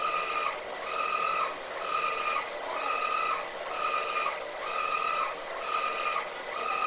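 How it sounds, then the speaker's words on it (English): A UV LED printer printing an embossed image onto a 2 by 2 white marble stone gives a regular, repeating cycle of whirring carriage passes with pitched tones, about one per second, steady and moderately loud. "It's printing on a 2 by 2 white marble stone."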